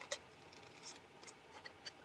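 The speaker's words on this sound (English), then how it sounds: "I'm just going to fussy cut it again." Scissors snip quietly up close as a stamped card sentiment is fussy cut by hand, a few soft irregular snips and paper rustles in a very quiet room.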